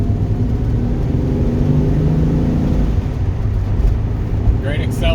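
A 1978 Ford Mustang II Monroe Handler accelerates with a loud, steady engine roar and road noise heard from inside the car, with a person talking over it.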